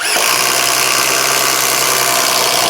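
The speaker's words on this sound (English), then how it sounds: "We're moving on to a single 3/4 inch Bosch Daredevil, just doing a single hole." Milwaukee drill boring a single hole with a 3/4 inch Bosch Daredevil spade bit, a loud steady motor whine and grinding that starts abruptly and runs continuously without speech.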